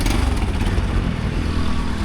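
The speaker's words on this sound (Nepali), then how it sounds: "सुदीप भाइ चाहिँ बाइक लिएर आउँदैछ" A motorbike approaches with a steady, loud engine drone and low rumble that hold throughout, rising slightly as it nears, on a residential street in Chhauni, Kathmandu.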